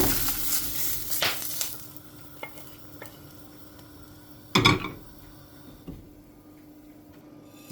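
Green chilies roasting in a pan, with a soft sizzle and occasional sharp scrapes and taps of a spatula on the metal, one louder stir burst midway, close and quiet.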